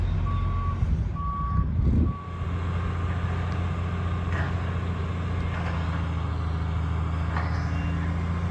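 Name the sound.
dump truck reversing beeps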